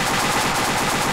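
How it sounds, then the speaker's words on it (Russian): An ArmA 2 machine gun fires continuously, a fast, even rhythmic stream of loud shots close by with no pauses, carrying on without any talk. "Стрелять нельзя, что ли? А, ну военные. Аркадий, смотри, Аркадий. Он реально так стрелял. Без конца, магазин похоже."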